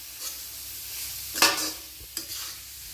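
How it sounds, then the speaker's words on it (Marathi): Shredded cabbage is stirred into momo filling in a hot pan, giving a soft background sizzle and two distinct scraping stirs of a spatula, close and alone. "आता आपण कोबी टाकत आहोत. छान मिक्स करून घ्यायची."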